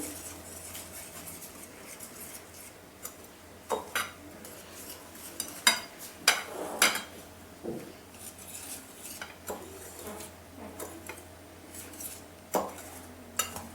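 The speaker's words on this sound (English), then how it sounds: "I'm going to just add the salt, jaggery, baking powder and soda, and I'm going to mix it in well" Salt, jaggery, baking powder and soda are stirred together in a bowl for whole wheat buns, with irregular spoon scrapes and clinks against the bowl, some sharper knocks standing out, quiet and close with no voices.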